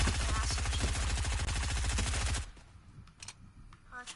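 Rapid automatic gunfire in the Fortnite video game, a dense burst of repeated shots for about two seconds, then quieter scattered clicks and shots.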